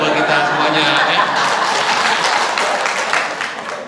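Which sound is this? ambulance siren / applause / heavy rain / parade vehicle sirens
applause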